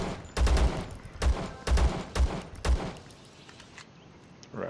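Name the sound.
gunfire shooting ghouls in video game Zero Sievert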